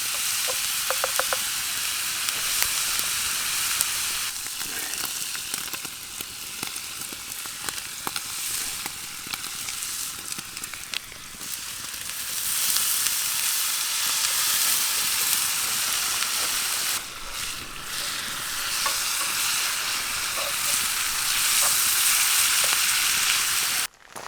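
Ground beef frying over a campfire on a solo camping trip, a steady loud sizzle and crackle running the whole way with brief dips, no talking.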